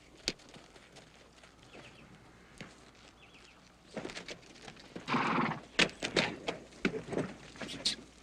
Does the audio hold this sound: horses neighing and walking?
yes